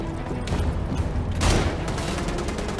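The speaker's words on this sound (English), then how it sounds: "Stop shooting my toesies." Gunfire in the shooter game Wolfenstein: The Old Blood: dense, rapid overlapping shots with a mechanical clatter that swell into a louder burst partway through.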